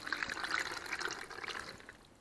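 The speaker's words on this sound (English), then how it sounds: "So here's the broth that I canned earlier in the video up here. Pour some of that" Home-canned broth pours into a soup blender, a soft close trickle and splash running steadily with a gentle liquid patter throughout, no voices.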